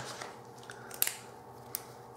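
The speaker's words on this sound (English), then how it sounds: "And let's just cut that out." Coil Master scissors snip through cotton wick for a vape coil, two quick close crisp cuts about three-quarters of a second apart over quiet room noise.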